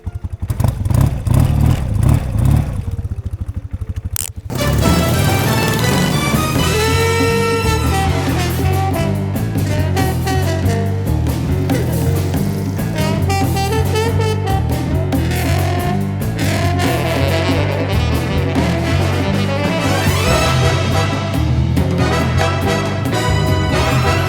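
A BMW R100R café racer motorcycle starts with a brief crank, then its boxer engine runs and revs steadily up close, rising and falling as the rider pulls away, loud throughout with no talk.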